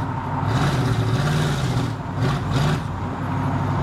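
A 1988 Chevrolet Silverado OBS short-box single-cab pickup truck drives along, giving a steady, close engine and road rumble that swells slightly in places, with no talking.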